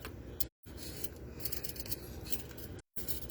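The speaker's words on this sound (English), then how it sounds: "I'm just peeling my potatoes." A hand peeler scrapes steadily along raw potatoes for aloo gobi, a close, continuous rasping with two short breaks between strokes.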